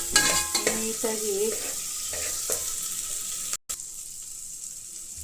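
Onion and green chillies fry and get stirred in a pan for a simple bachelor-style lentil sambar, with a steady sizzle and scraping stirs up close and a brief gap partway through.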